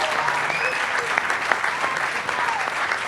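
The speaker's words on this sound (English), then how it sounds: "I just would love to just offer a big applause to everybody" Steady, dense applause from a conference audience for the panelists at the GlobalBEM 2013 gathering in Boulder, Colorado, sustained and fairly close with faint voices beneath.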